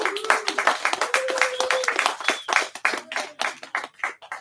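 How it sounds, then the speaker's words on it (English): A burst of quick, uneven clapping from a small group at a college music club open mic, with voices calling out over the hands. "give yourself a round of applause if you're performing"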